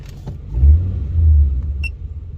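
Car engine idling just after a cold start, a low close rumble swelling in two brief surges, with a short faint electronic beep near the end.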